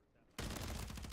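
Sudden burst of rapid automatic gunfire in the Warzone video game, loud and dense after a brief quiet lead-in, with shots continuing in quick succession.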